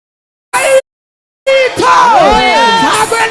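Crowd at a church gathering ululating in high, wavering trills, a brief burst followed by a sustained, overlapping chorus of many voices.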